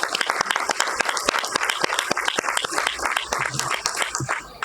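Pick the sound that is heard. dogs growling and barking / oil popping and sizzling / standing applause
standing applause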